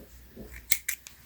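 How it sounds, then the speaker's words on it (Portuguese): Scissors snip through crochet yarn after the last stitch of a baby's crochet sandal, giving three quick, close, faint crisp snips in a row with no talking. "Eu já posso cortar o fio, vou cortar aqui"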